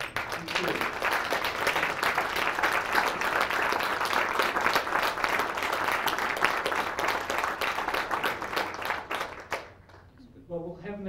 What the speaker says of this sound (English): I think you can just look around and just give yourselves a clap.